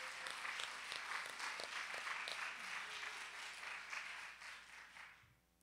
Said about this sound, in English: I'd like you just all give them a bit of applause because they're pretty great.